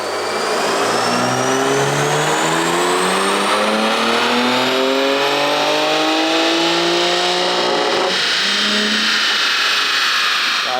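A BMW M2 with the S58 engine and an aftermarket tune revs hard on a dyno, its engine note climbing steadily in pitch through the gears, loud and close, running continuously with no talk.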